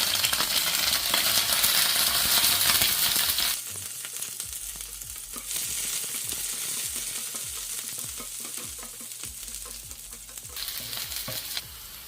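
Sliced green chillies, curry leaves, chopped garlic and ginger sizzle in hot coconut oil in a pan for a Kerala fish molee. A loud splash of frying at first settles into a steady crackle with repeated scraping stirs.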